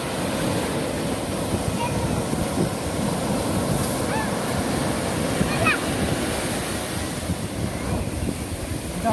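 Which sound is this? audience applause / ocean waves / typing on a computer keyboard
ocean waves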